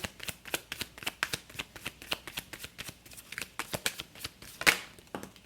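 Tarot cards are shuffled close up in a quick burst of crisp riffling flicks and slaps, rapid and uneven, with a sharper snap near the end, and no voices.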